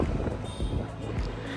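Wind buffets the microphone on the open upper deck of a KSRTC double-decker bus touring Trivandrum city in the evening, a steady loud rumble with low gusty roar throughout.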